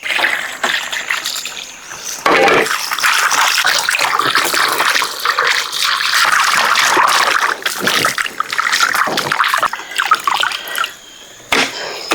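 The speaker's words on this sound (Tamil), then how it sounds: "இப்போ நாங்கள் மட்டனை நல்லா கழுவி எடுத்துக்கிறோம்." Raw mutton is washed by hand in a vessel of water, producing continuous sloshing, splashing and trickling close by, with brief quieter pauses between rinses.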